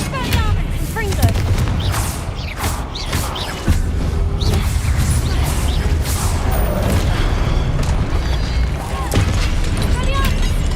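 Confringo blasting spells explode during combat in the Hogwarts Legacy video game, loud booming blasts and crashes in rapid succession over dense continuous battle noise, with voices heard throughout.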